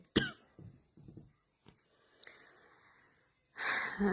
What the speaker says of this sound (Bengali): কথা বলতে গেলে কাশি আসতেছে